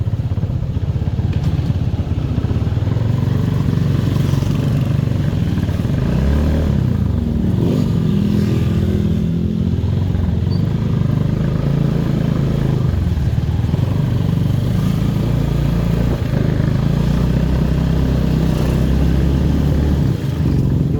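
Steady, loud 300cc motorcycle engine drone while riding, with a continuous low rumble and slight shifts in pitch throughout; no talking.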